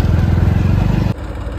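A motorbike engine running while riding in a street procession for Ganesh immersion, a loud, close, steady throbbing putter that drops suddenly to a lower idle-like tone near the end.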